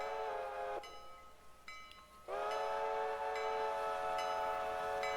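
A train horn sounds loud and close for a railroad crossing: a shorter blast, a brief dip, then a long sustained blast with a steady, rich tone and no talk.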